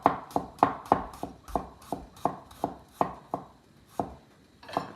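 Turnip being chopped with a knife on a cutting board: a steady series of about a dozen crisp, close knocks at a brisk, slightly uneven rhythm, with no voices.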